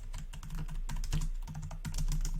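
Rapid, close clicking of keys on a computer keyboard, dense uneven bursts of keystrokes running continuously with no talk.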